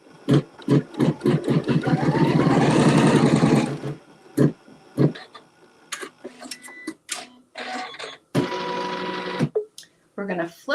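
A sewing machine stitches a quilt seam through layered fabric in short bursts, with a sustained run of fast mechanical whirring near the start and a shorter burst later, separated by pauses and quiet handling sounds; a person talks in between.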